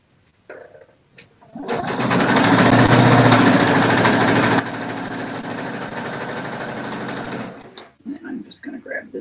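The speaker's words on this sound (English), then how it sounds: "She's sewing at super speed just for you guys." A sewing machine stitches fabric strips for rainbow weave placemats at high speed, one loud steady mechanical whir lasting several seconds that eases slightly partway through, with brief talk before and after.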